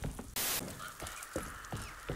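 Crows caw in the Alone in the Dark game amid rain-like ambience, opening with a loud harsh burst followed by a few shorter, fainter calls.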